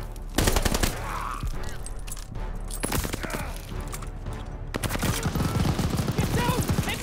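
Call of Duty: Vanguard machine gun fire rattles in dense, rapid bursts, mixed with heavier gunshots and thuds across a loud battlefield soundscape, with soldiers shouting over the din.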